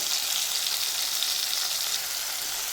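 Cumin seeds and garlic fry in hot oil with cut tomatoes in a pan, making a continuous close, bright sizzle that stays steady and loud throughout.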